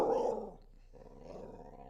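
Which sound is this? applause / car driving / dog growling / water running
dog growling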